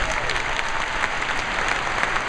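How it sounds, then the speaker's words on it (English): Dense, steady applause from a large audience at a Get Motivated event in Austin, Texas, filling the room evenly without pause for a couple of seconds, with a few scattered cheers mixed in. "How many of you have ideas? Applaud."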